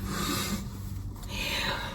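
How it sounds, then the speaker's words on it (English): Back-and-forth rasping of sandpaper on a surface, steady scratchy strokes up close, no voices. "oh no, that's sanding"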